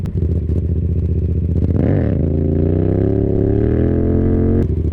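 A Yamaha XSR700 motorcycle with an M4 exhaust revs hard during a wheelie attempt, a loud close engine note that climbs, dips briefly, then holds a steady high drone before cutting off at the end.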